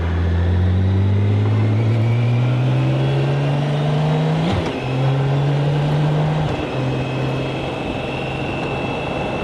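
A car engine drones steadily and climbs in pitch as it accelerates, briefly dipping around the middle before pulling hard again, loud and close with no talk over it.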